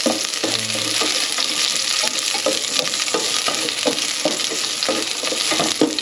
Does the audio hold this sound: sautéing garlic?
yes